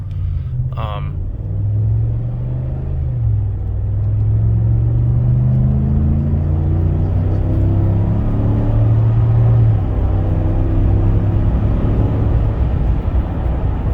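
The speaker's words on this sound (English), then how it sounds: "we're driving here with the Corsa cold air intake, and this thing honestly doesn't make a whole lot of noise" A 2019-or-newer Ram truck with a Corsa Performance cold air intake, heard from the cab: a low, fairly quiet engine drone that rises gradually in pitch as it accelerates, then eases off, with steady road rumble and a brief click early on.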